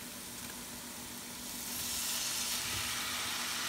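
Pork hits a hot pan for tinumis, a steady close sizzle that swells louder and brighter partway through and holds as a dense hiss.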